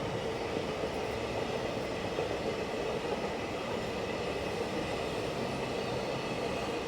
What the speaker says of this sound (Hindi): यहाँ से एक स्पेशल मालवाहक ट्रेन हमारी ट्रेन को क्रॉस करते हुए